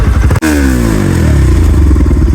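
A motorcycle engine revs loudly up close, its pitch falling and settling into a throaty rumble after a brief cutout.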